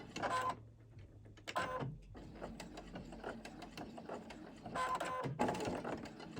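A sewing machine runs in short mechanical bursts while stitching fabric for a corner bookmark, a few separate rattling runs with pauses between them, fairly close and with no talking.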